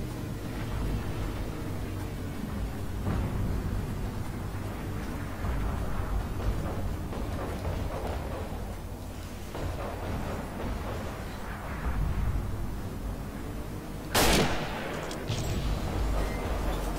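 Continuous rumbling battlefield din of artillery explosions and gunfire in the video game Forgotten Hope 2, loud and dense throughout, with a sharper blast near the end.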